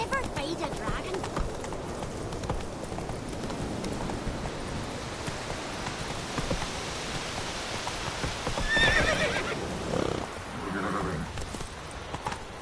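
A horse in The Witcher 3 whinnies and gallops with steady hoofbeats over a rainy-sounding wash of ambience, with a brief louder swell near the end and voices speaking over it.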